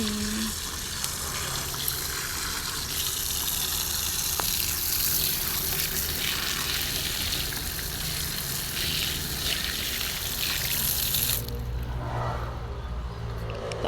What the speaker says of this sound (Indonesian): seiki aku tak isuh dhisik cuci tangan guys cuci tangan